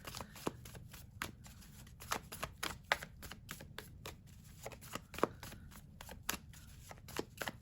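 A deck of oracle cards is shuffled by hand indoors, quiet crisp riffling and slapping bursts arriving in an uneven rhythm over a faint background hush.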